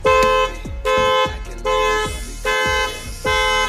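A car alarm honks the car horn in five sustained blasts, each about half a second long with short gaps between them. It is loud and close, with no talking.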